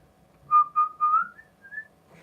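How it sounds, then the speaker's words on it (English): A short melodic phrase is played on an Irish whistle: three clear, bright notes in quick succession, then two higher held tones, close and alone. "Spitting some bars on Irish Whistle"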